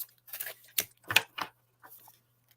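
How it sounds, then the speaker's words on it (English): A tarot deck being shuffled before a Celtic cross reading gives several quick, soft riffling bursts at close range, separated by brief pauses, then a fainter final flutter. "let's give it a good shuffle"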